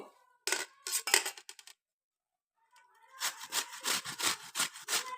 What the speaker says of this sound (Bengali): এবারে আমি গ্রেটারের সাহায্যে কচুটাকে গ্রেট করে নেব